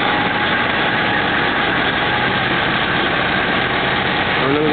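A carnival ride truck hauling a scary house attraction idles as it pulls in, giving a loud, steady, close engine drone that continues without pause and with no talking.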